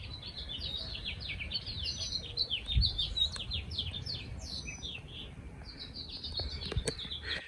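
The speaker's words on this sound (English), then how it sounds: "Birds are having little baby chicks. So that's the chirping." Baby birds chirping in spring around potted blueberry bushes, quick repeated high tweets in clustered bursts over a low outdoor rumble, fairly faint and with a short thump midway.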